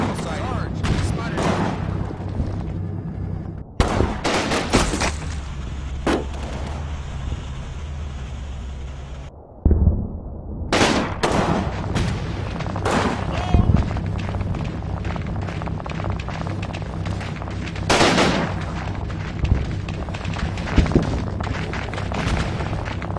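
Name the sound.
German machine gun fire in video game Combat Mission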